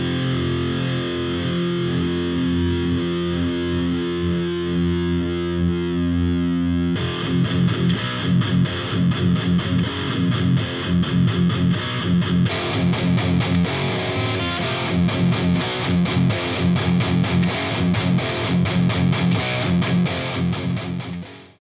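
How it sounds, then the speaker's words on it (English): Distorted electric guitar captured by two phase-aligned microphones, first a held chord ringing out, then a long stretch of driving, chugging chords played steadily, thick and loud throughout with no voices. "aligning the phase more accurately, we might be able to make the guitar sound thicker or fuller"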